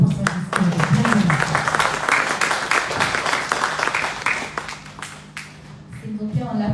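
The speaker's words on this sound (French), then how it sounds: "S'il vous plaît, on l'applaudit jusqu'au lutrin" A conference audience applauds to welcome a doctor invited to give a welcome address at a community workshop, steady dense clapping that fills the room for several seconds before thinning out near the end.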